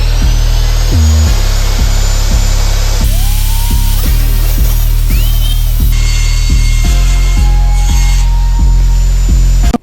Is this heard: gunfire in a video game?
no